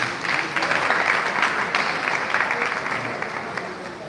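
Sustained applause from a sizable audience at an inter-tertiary debate competition, a steady wash of clapping that slowly fades slightly toward the end.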